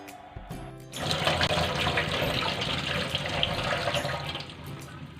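Running water from a tap pours steadily after a short quiet start, splashing as cut mulberries are rinsed underneath.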